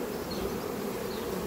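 Honeybees at a hive entrance give a continuous close, even buzzing drone, steady in loudness and heard alone, with occasional slightly higher wingbeat whines drifting past.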